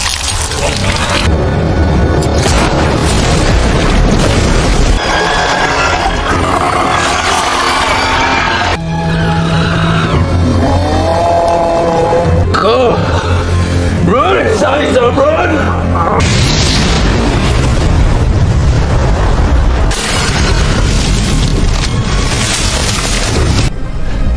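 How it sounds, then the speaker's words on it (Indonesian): Deep booms and blasts rumble repeatedly amid dramatic movie-style sound effects and music, with voices speaking over parts of it. "Setelah terjadi ledakan"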